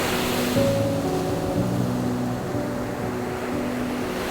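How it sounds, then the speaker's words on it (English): Ocean surf rolls onto a Costa Rica beach at a tidal estuary crossing, a steady broadband wash of breaking waves with a faint low tonal hum running underneath, no voices. "Big wave coming."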